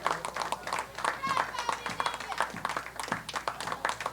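Spectators at a live wrestling show clap rhythmically in loud, uneven bursts, filling the hall, while people talk over the steady clapping.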